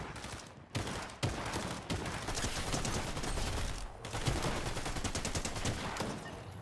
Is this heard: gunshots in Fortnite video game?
yes